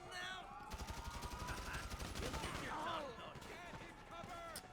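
Police gunfire in the GTA 5 video game, bursts of rapid shots rattling over a steady background with a voice talking excitedly throughout.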